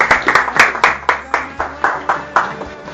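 A Bible study group claps together in a steady, rhythmic beat of about a dozen distinct, close handclaps spread evenly over a few seconds, with faint murmuring beneath.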